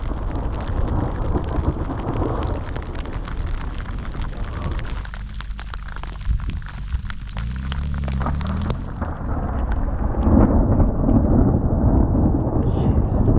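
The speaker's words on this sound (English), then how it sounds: "So that was 6 seconds between lightning and thunder." A mountain thunderstorm during an ultra-distance bike race in the Balkans brings steady heavy rain and a deep rolling thunder peal building and fading in the middle, with a brief voice near the start.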